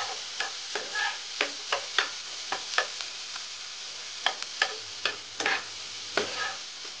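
Chopped garlic frying lightly in butter, a soft sizzle under a regular series of sharp spoon taps and scrapes against the pan as it is stirred.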